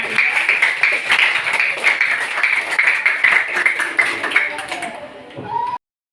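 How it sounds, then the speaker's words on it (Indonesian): Students in a classroom give a round of applause after a classmate's presentation, dense close clapping that continues steadily for several seconds, with some voices mixed in, before fading and cutting off. "Bagus, kasih tepuk tangan."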